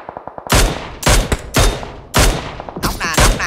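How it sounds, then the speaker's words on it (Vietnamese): Bursts of gunfire from the PUBG Mobile video game, with bullets hitting a wall: several sharp, loud volleys in quick succession with short gaps between them, no talking. "Nghe đạn nó lùa vô bức tường nè"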